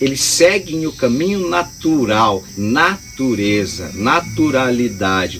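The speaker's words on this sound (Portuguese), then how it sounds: "Nesse momento tem um grilo cantando aqui" A cricket chirps steadily outdoors, a thin continuous trill running faintly beneath a person talking throughout.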